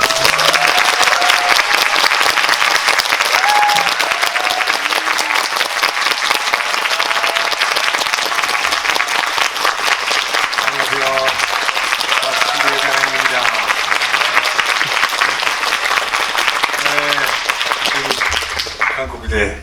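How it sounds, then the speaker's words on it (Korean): A packed cinema audience at a film screening and director Q&A gives sustained, dense applause that stays loud throughout, with a brief voice heard near the end. "그럼 아직 그 박수를 칠 힘은 있는 거죠?"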